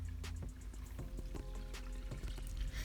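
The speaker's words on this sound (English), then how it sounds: "So here comes the next straining" Lime and cucumber juice being strained through a sieve to hold back pulp, heard as a close, soft pouring and trickling with scattered light taps and knocks against the utensils, and no talking.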